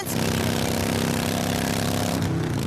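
A motorcycle engine roars loudly and continuously, a dense rumbling drone that buries a radio commercial playing beneath it.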